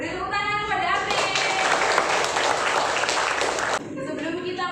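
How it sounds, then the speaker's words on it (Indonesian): Schoolchildren in an Indonesian primary school classroom applaud together, a dense burst of clapping lasting about three seconds between stretches of speech. "Beri tepuk tangan"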